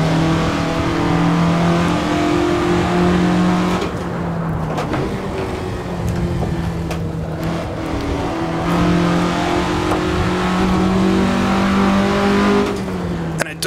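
A 1967 Russell Alexis Mk.14 Formula Ford in the Assetto Corsa racing game, its engine loud and close, holding a steady high drone, easing off briefly and then revving back up through the gears.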